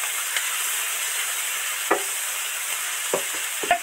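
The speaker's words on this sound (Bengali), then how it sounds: "পেঁয়াজ আর গ্রেট করা পেঁয়াজ মোটামুটি ভাজা হয়ে গেছে" Onions, some of them grated, frying in a pan for a duck egg curry, giving a steady close hiss and sizzle with a few soft stirring scrapes and no talking.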